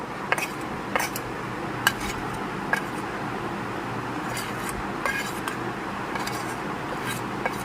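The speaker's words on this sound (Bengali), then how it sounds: "সামান্য পরিমাণ জলের মধ্যে আমি এখানে গুঁড়ো মশলাগুলো এক এক করে দিয়ে মিশিয়ে নেব" Ground spices being stirred one by one into a little water in a bowl for a masala bhindi, with sparse, light spoon clinks and taps at uneven intervals over faint background noise.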